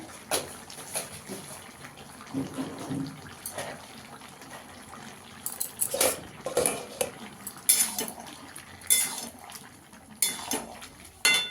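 Potato and cauliflower curry with poppy seed paste being stirred in a pan, irregular metallic clinks and scrapes of a spoon against the pan over a quiet background, with sharper knocks clustered toward the end.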